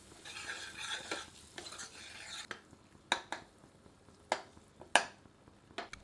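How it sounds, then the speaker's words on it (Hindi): Kashmiri chili powder is stirred into chicken curry frying in a pressure cooker: a fading sizzle at first, then sharp, uneven scrapes and clacks of a ladle against the metal pot, close by. "तत्पश्चात इसमें 1 टेबलस्पून कश्मीरी मिर्च का चूर्ण सम्मिलित कर इसे मिला देते हैं।"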